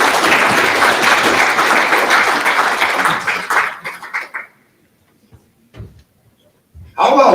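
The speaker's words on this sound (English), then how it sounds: "How about one more big round of applause for Sarah" A loud, dense round of applause from the audience at the Lakota Media Summit swells for several seconds, then thins to a few last claps and fades into near silence before someone begins talking.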